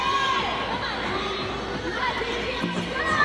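The crowd at Huff Hall cheers and roars steadily during a Michigan versus Illinois college gymnastics meet, a loud, sustained wash of voices and shouts filling the arena.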